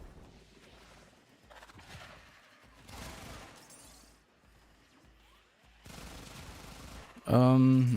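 Bursts of rapid gunfire crackle over game background noise, ending in a loud, sharp blast with a ringing tone.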